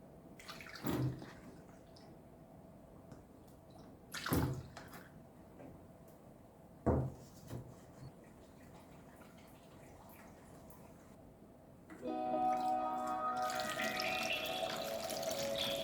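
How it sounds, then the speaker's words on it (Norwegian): Water is poured into the cabin heater of a Volvo BM 500 tractor. A steady splashing gush starts suddenly after several sharp isolated knocks and clicks, and runs continuously to the end. "Kan jeg ta litt vann oppi her?"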